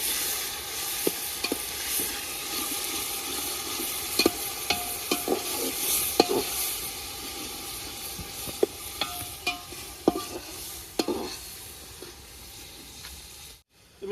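Onion masala with chili, garam masala, salt, cumin and coriander powder stirred and fried in a pan for dal bati. A steady close sizzle runs throughout, broken by scattered scraping clicks of the spoon, with no voices.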